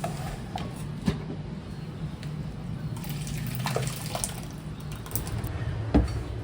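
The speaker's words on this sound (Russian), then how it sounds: "Томатный суп в томатной кастрюле. Я сейчас его переливаю." Tomato soup pours steadily from a pot in the background with soft splashing and a few faint clinks of the pot, no talking.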